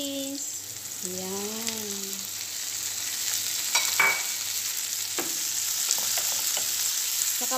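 Tomatoes tipped into a hot frying pan set off a steady, close sizzle that runs throughout, with stirring clatter, a few utensil knocks and brief talk at the start.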